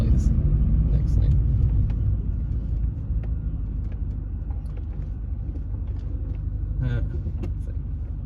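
Ford Mustang Mach 1 cruising close behind on the road to a car meet, a steady low engine rumble and road noise that runs throughout with little change in level.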